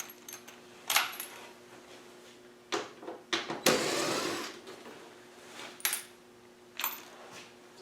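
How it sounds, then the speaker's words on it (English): Metal washers dropping back into an assorted washer box during Series 3 Land Rover dashboard restoration prep: several short metallic clinks and rattles in sparse bursts, with one longer jangling pour in the middle, close by and moderately loud. "Put our washers back in our assorted washer box"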